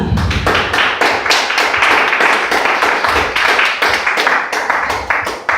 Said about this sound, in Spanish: Vamos a darle un aplauso al Señor de alabanza.